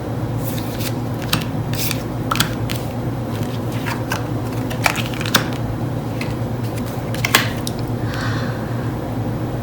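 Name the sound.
tarot cards being shuffled and drawn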